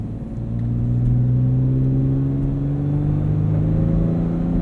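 Steady low growl from the V6 engine of a modified 2014 Toyota FJ Cruiser with TRD intake and exhaust, heard from inside the vehicle as it drives, building slightly in the first second then holding a constant rumbling drone.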